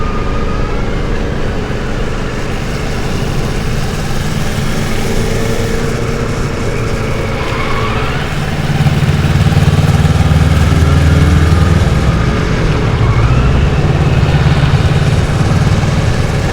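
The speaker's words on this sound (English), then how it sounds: "bike still has the factory exhaust on it, it really doesn't sound too bad" Kawasaki 650RL (ER6N) motorcycle with its factory exhaust, a steady mid-pitched engine drone heard close, rising to a louder, throatier run partway through before settling again, with no voices.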